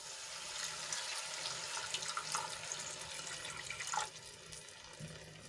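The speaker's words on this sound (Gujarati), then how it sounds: "અહીંયા હું એક ગ્લાસ જેટલું પાણી એડ કરું છું" Steady stream of a glass of water pouring and splashing into a pan of gravy, continuous and fairly close, with a small gurgle near the end.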